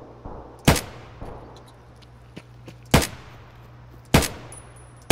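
Three sharp, loud gunshots fire at uneven intervals in Escape from Tarkov, each with a long ringing decay, over a steady low background hum.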